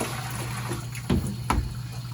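Water running from a tap while darkroom trays are rinsed, a continuous close flow with a low hum and two brief splashy bursts partway through.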